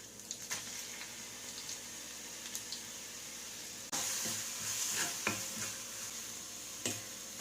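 Pulsed ground onion sautés in a pan for a hotel-style chalna. A quiet, distant sizzle is broken by occasional spoon taps, then grows a little louder partway through as the stirring picks up.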